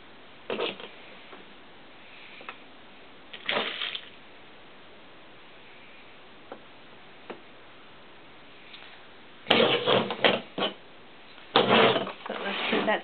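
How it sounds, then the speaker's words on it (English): A sewing machine stitches a seam across the top of a doll cowboy hat in short whirring bursts with pauses, faint between runs, louder in quick spurts toward the end. "we're just going to sew a seam across the top of the hat"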